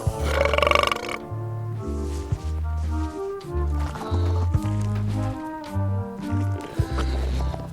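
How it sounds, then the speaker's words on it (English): Deep, gurgling burps from a burping contest with blowfish in the Return to Monkey Island video game come in a series of short, loud bursts separated by brief pauses, with music underneath. "They're excellent for burping contests."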